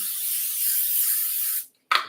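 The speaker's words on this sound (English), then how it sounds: "I'm going to spray my pan" A can of cooking spray hisses onto a pan in one long steady burst of about a second and a half, then a brief second spritz after a short pause, close and fairly loud with no voices.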